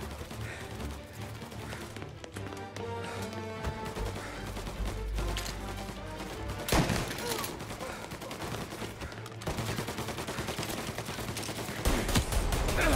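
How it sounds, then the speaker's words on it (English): Gunfire from the Mafia: Definitive Edition video game, a dense fusillade of shots and bursts running throughout with game music and effects underneath, fairly loud and close, with sharp heavier blasts near the middle and the end. "I don't know what the hell is he shooting at."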